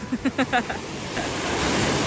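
Big sea waves breaking on a shore where mullet are caught in fishing nets, a steady broad roar of surf with wind, preceded by a few brief voiced sounds at the start.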